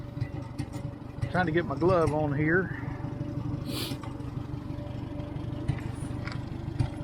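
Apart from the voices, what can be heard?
IH McCormick Farmall 350 tractor engine running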